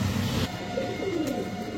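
Pigeons at a bird market sale, including a pair of the milky-khaki (dudh khaki) breed, give low cooing calls against a steady background murmur.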